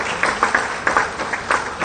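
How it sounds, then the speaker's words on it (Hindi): Applause from a crowd at a Jharkhand government event with the chief minister, a short burst of uneven clapping with distinct individual claps, moderately close. "तालियां जोरदार हो।"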